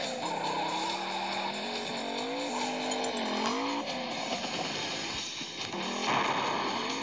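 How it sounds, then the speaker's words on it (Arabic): Arcade-style driving game car drifting continuously with loud tire squeal over a revving engine, steady and close for the whole stretch with no talk. "أغرب لعبة بالعالم يعني تفحيط"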